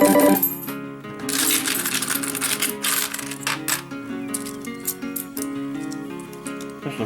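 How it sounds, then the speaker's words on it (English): A dense, continuous metallic clatter of coins being fed in bulk into a slot machine, loud and busy throughout with rapid jingling and clinking. "This is a quick way to load coins in."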